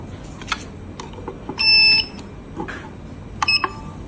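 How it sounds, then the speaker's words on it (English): Mesilix XAC-MSL223 access card reader sounding a long, clear electronic beep of about half a second, followed later by a shorter cluster of beeps, near and loud over quiet room background. "you will hear a long beep if the adding procedure is successful"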